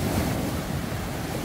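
Ocean surf at Yonghwa beach roars in a steady, close wash of breaking waves with wind noise, loud and continuous with no voices over it.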